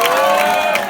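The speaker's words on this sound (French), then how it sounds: "On peut l'applaudir très fort, s'il vous plaît." A school show audience at a Purim performance claps and cheers, a brief loud burst of mixed applause and voices.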